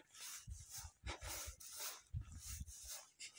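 A Kangal-type guard dog pants in quick bursts and lets out soft whimpers and snorts, close by, in uneven rhythmic breaths with short pauses between.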